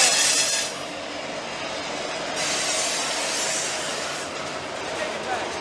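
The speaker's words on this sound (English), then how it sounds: "We're hearing flexing on that rail. Oh, we're hearing them brake. That's an SD70 ACE." An SD70ACE locomotive brakes in a rail yard while the rail flexes beneath it: a steady loud rumble with hissing, squealing bursts rising and fading. A voice murmurs faintly.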